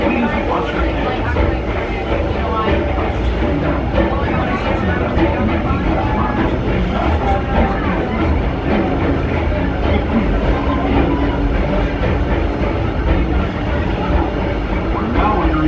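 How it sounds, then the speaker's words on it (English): The Disneyland Railroad passenger train, pulled by the C.K. Holliday No. 1 steam locomotive, rumbles steadily along the tracks. The loud, continuous rolling noise stays up close throughout, with a voice speaking over it. "welcome aboard the Disneyland Railroad"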